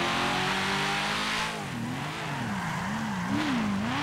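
Chevrolet Camaro SS muscle car in GTA 5, its engine revving loudly and continuously, the pitch holding and then wavering up and down as the throttle shifts, with no voices.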